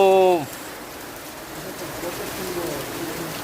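Steady rain falls outdoors during the monsoon season, a constant soft hiss that continues without a break. A brief cooing call rings out at the start, before the rain noise settles.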